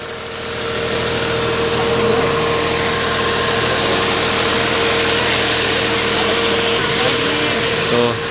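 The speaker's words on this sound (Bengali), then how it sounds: "ডিজি স্টার্ট হয়ে গেছে ইঞ্জিন" A diesel generator runs steadily at a sound-check setup, a loud continuous engine drone with a constant hum that holds evenly throughout after a brief rise at the start.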